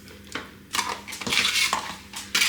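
Scraping and clinking as Philadelphia Light cream cheese is spooned into a plastic tub, several separate knocks and scrapes of a utensil against the container, close and fairly loud, no talk.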